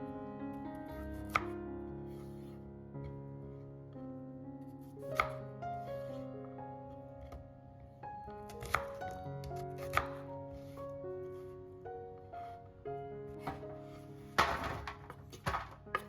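Knife chopping red and white onions for a grilled salmon wrap: a handful of sparse, separate thunks against the board, heard under steady background music.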